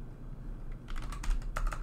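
Typing on a computer keyboard while coding Python functions for a Spike Prime robot, with a short run of light, close key clicks arriving in the second half after a quiet start.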